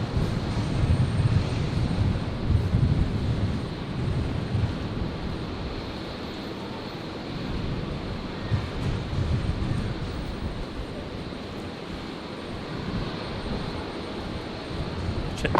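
Airliner engines roar steadily at Brisbane International Airport, a continuous loud jet rumble with some wind, no talking over it.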